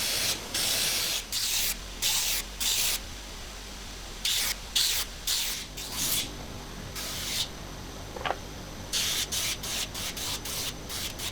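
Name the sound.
belt sander rounding over wooden spoke ends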